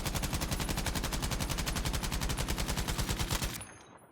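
A long sustained burst of automatic rifle fire in the Battlefield V video game, rapid evenly spaced loud shots for about three and a half seconds before stopping abruptly, with a brief fading tail.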